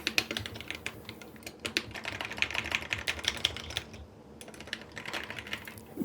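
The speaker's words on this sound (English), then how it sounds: "that NK87 paired with this Hypotech keycaps" Dense, steady clacking of typing on an NK87 mechanical keyboard fitted with Hypotech keycaps, close and continuous with a brief pause near the end, no speech.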